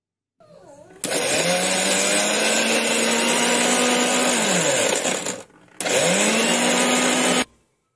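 An electric mixer grinder blends ginger, cumin and green chillies into a paste, roaring loudly and close in two bursts separated by a brief pause, the motor pitch settling as it spins up and dropping as each run stops.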